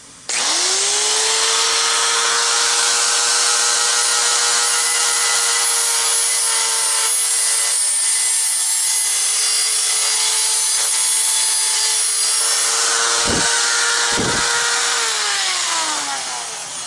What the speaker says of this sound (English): I'm going to use this bigger tool, this Roto Zip, with a bigger cutting wheel, to grind this down